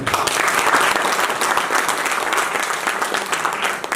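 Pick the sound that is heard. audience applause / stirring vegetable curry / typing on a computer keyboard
audience applause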